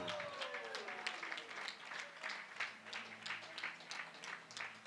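An audience at a sports league draft event applauds a player being announced, steady scattered clapping heard faintly at a distance, with an announcer's voice running over it.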